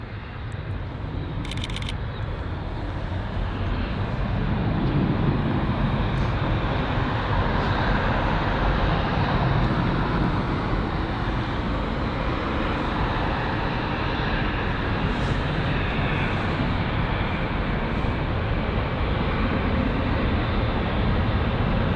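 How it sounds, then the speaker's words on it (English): A Virgin Atlantic Boeing 787-9 Dreamliner arriving at London Heathrow gives off a steady, loud broadband jet roar that fills the whole stretch with little change, heard from outdoors on Easter Sunday. "So we've got a 787, which has just arrived. This one here, the Virgin Atlantic 787-9 Dreamliner."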